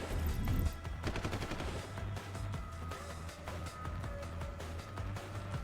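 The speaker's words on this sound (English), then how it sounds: "Why are you shooting your gun?" Rapid gunfire in the video game Deus Ex: Human Representation of a firefight, with dense bursts of shots cracking in quick succession throughout, loud and continuous with no talk.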